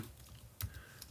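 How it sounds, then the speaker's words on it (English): A handful of quick keystrokes clack on a computer keyboard while text is entered into a Bible study app. The taps are faint and close, coming in a short irregular burst. "So I'll just type in R-O-M"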